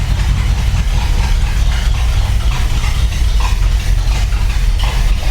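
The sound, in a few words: Chevy Corvette engine starting and idling roughly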